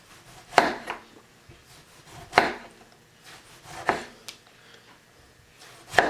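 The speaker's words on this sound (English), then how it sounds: "I'm just going to slice our tomato now." Knife slicing through a tomato on a cutting board while a grilled cheese sandwich is prepared, four separate crisp cuts with tapping on the board, spaced a second or two apart, near and fairly quiet.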